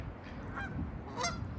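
Geese honk at a park pond in Woodward Park, Fresno, with two brief nasal calls rising over a low outdoor rumble, moderately distant.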